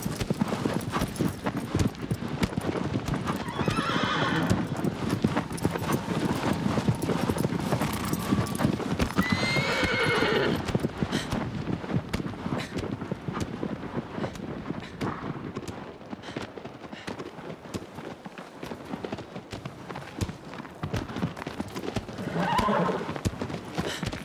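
Hoofbeats clop in steady running rhythm as a horse gallops through the Shadow of the Colossus game world, with a few loud whinnies breaking through; the hooves stay close and continuous for the whole stretch, and no one speaks.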